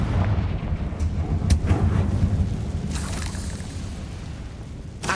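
Confringo blast spell from Hogwarts Legacy gameplay, a booming, rumbling explosive burst with sharp cracks and sustained low roar across the whole stretch, loud and close.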